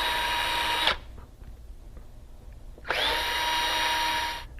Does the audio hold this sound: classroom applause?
no